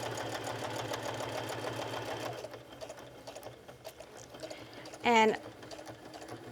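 A sewing machine with a heavy-duty needle stitches around the edges of a fabric-scrap wallet, whirring steadily for a couple of seconds and then stopping. A voice talks quietly near the end.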